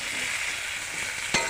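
Food fries in a pan after salt is added and gets stirred, with a steady sizzle throughout and one sharp utensil knock on the pan near the end.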